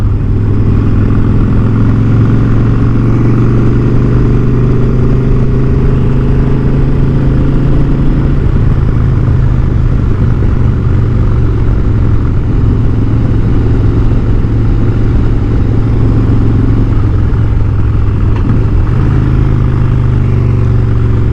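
A loud, steady Harley-Davidson motorcycle engine rumbles continuously while riding, with a deep throbbing drone and wind noise throughout.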